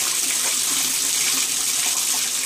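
Water runs steadily from a tap into a bathtub, a loud, continuous hissing gush with no break.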